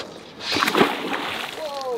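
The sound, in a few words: fish splashing as it is released back into the water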